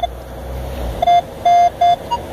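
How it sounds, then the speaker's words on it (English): A series of short electronic beeps from a Minelab X-terra 705 metal detector over coins, three in quick succession after an initial chirp, bright and close over a quiet park background. "You hear the beep, beep, beep?"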